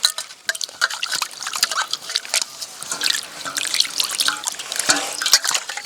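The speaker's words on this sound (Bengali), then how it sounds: "এবার জল দিয়ে ধুয়ে নেব।" Scaled chital fish are rinsed under running water, a close, steady splashing and trickling with irregular drips and sloshes throughout, no talking.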